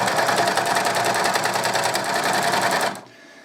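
A Singer 14SH754 overlocker runs fast and loud with a dense, even mechanical whir as it chains off thread, then stops abruptly near the end.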